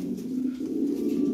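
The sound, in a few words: Lahori pigeons cooing at a pigeon fair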